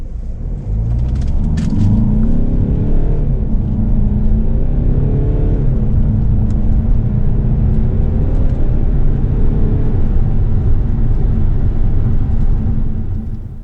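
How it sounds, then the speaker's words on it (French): A Peugeot 508 SW GT Line with a 180 hp 2.0 BlueHDi diesel accelerates hard, its engine note rising in steady, loud gear pulls over a constant road rumble from inside the car. "Ce 2 litres abat le 0 à 100 en moins de 8 secondes et a un son assez plaisant"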